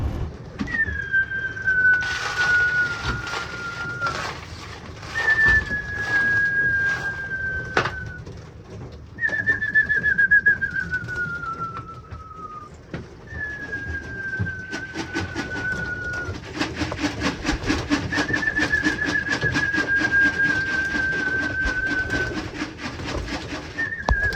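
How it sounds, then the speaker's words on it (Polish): Racing pigeons coo in a loft at feeding time, a series of drawn-out descending calls repeating every few seconds over steady background rustle and shuffling, fairly close and clear throughout. "Wołamy sobie gołębie."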